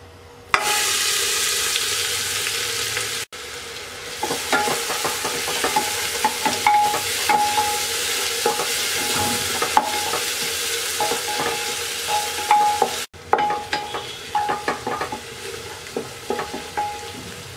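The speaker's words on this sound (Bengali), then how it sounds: "এবার দিয়ে দিচ্ছি 1 কাপ চপ করে নেওয়া পেঁয়াজ" Chopped onion frying in hot oil with whole spices and black peppercorns for vegetable khichuri, a steady close sizzle with scraping stirs throughout and a brief break partway; no talking.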